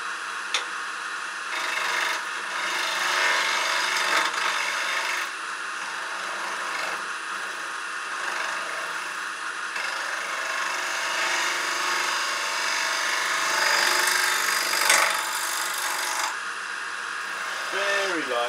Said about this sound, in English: I'm just going to use spindle gouge, 3/8 or half inch